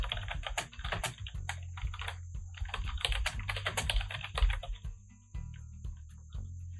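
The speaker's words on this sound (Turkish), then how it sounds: "burada gelen alana öncelikle bir isim ve daha sonra bir açıklama yazılır" Computer keyboard typing in steady bursts of quick, close keystrokes for several seconds, with a low hum underneath and no speech.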